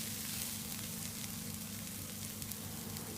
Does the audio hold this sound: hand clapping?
no